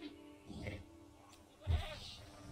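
A goat in the Jurassic World Evolution game bleats twice, two short nasal cries about a second apart, fairly faint and close.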